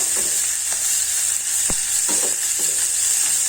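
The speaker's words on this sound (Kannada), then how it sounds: "ಸ್ವಲ್ಪ ಇದು ಬ್ರೌನ್ ಕಲರ್ ಬರೋವರೆಗೂ ಹುರ್ಕೊಳ್ಳೋಣ" Onions, ginger, garlic, cinnamon and cloves fry in oil in a pan for egg sambar, making a bright continuous sizzle up close, broken by a few soft stirring knocks.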